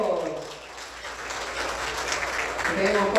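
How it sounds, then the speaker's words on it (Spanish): Guests at a wedding applaud the newlyweds with a soft, steady patter of clapping that runs the whole time, while voices talk and call out over it. "Un fuerte aplauso para los recién casados y que vivan los novios."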